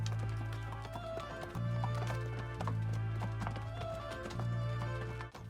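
Hooves of a horse on a ride in Santorini, Greece clop steadily in a close, even rhythm that runs the whole time, with no voices over it.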